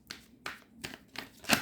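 Tarot cards are shuffled in close, crisp bursts, five quick riffling swishes at an even rhythm, with the last one the loudest, and no voice over them.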